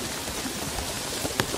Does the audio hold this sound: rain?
yes